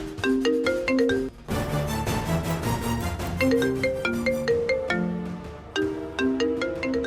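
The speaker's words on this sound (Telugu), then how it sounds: "నీ ఫోన్ రింగ్ అవుతుంది." A mobile phone ringtone plays a bright, repeating melodic pattern, loud and close, with a brief pause before the tune starts again; no one speaks over it.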